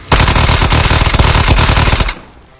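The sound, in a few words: gun firing in video game Ghosts of Tabor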